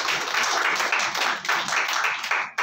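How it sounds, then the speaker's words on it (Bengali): An audience claps loudly at a film festival prize distribution ceremony after an award is announced, a dense burst of applause lasting a few seconds that cuts off abruptly near the end. "best animated short film picture জন্য একবার জোরে হাততালি"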